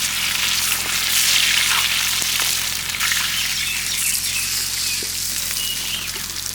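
A large katla fish sizzles in hot oil with a steady, crackling fry, moderately loud and close, with faint bird calls in the background and no talking.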